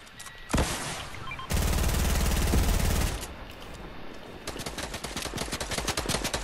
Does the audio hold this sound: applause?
no